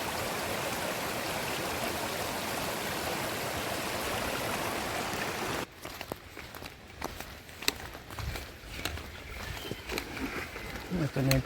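A wide, cold, clear river on a mountain trail in Rizal rushes steadily and loudly for several seconds, then drops abruptly to a quieter murmur with footsteps and movement nearby.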